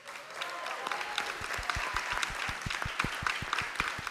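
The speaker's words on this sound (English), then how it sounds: "Clap, everyone. Clap." Audience clapping at a Samsung product launch for AI glasses and an Android XR headset, scattered claps thickening into steady applause from a large crowd in an event hall.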